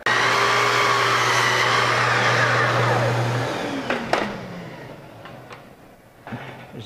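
Miter saw cutting a piece of wood trim for a Greek Revival Victorian window head: a loud steady motor whine that winds down after a few seconds, followed by a few clacks and handling noises.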